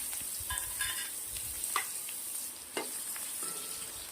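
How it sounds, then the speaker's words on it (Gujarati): Mustard seeds, cumin and asafoetida frying in hot oil give a steady close sizzle with scattered crackles and small pops, alone and without talk. "હવે આપણે અંદર નાખીશું થોડી રાઈ અને જીરું, થોડીક હિંગ નાખું છું।"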